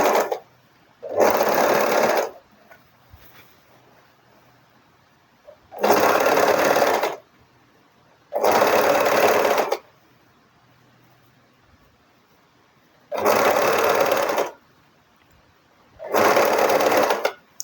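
Overlock machine serging the edge of gown fabric in five loud, close bursts of rapid whirring stitching, each lasting one to two seconds, separated by quiet pauses.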